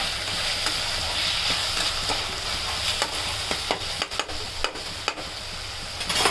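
Fish eggs frying in a pan for bhurji, a steady loud sizzle with intermittent scraping and stirring knocks toward the end.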